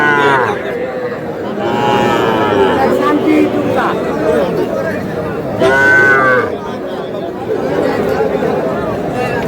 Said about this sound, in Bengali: ষাঁড় বাচ্চা, দুটাই ষাঁড় বাচ্চা।